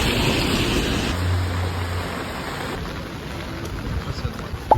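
Heavy rain and gusting wind on a walk in Japan, a steady loud wash of rain noise filling the scene with a few sharper knocks near the end, voices faintly underneath.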